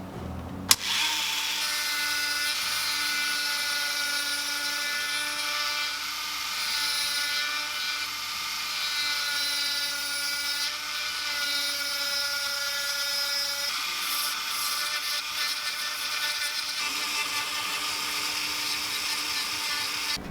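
A rotary tool fitted with a burr ball bit carves a fishing lure, making a high, steady whine with a grinding edge. It starts with a sharp click and then holds a continuous tone close to the listener.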